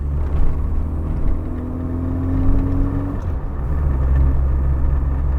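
An MG Metro engine hums and drones steadily while driving, its pitch rising briefly as it revs during heel-and-toe downshifting, over continuous low road rumble.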